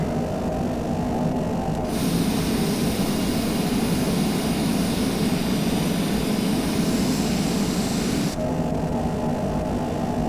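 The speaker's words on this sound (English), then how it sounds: "Reverse thrust." Challenger 350 business jet engines roaring into reverse thrust on landing, a loud broadband rush that swells suddenly after a couple of seconds, holds steady and then drops back to a lower rumble near the end.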